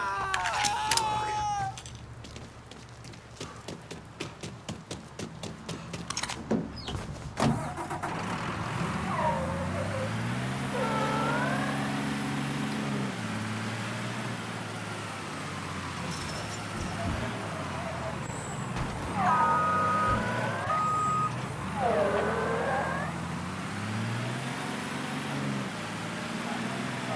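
A stolen car drives through the streets in the Mafia 3 video game, its engine revving up and down in rising and falling sweeps, with some voices and other noises mixed in.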